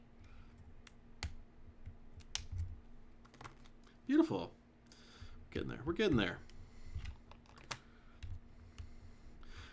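Keyboard switches are pulled from a custom keyboard with a switch puller, producing scattered sharp clicks and plastic snaps at an uneven pace, while a person talks briefly over the work.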